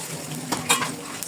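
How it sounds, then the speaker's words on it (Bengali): Ginger and garlic paste frying in a pan as it is stirred, with soft scraping and clinks of a utensil against the pan over a steady low sizzle, a few brief louder scrapes standing out. "এরপর আমরা আদা বাটা রসুন বাটা দিয়ে নাড়তে থাকবো।"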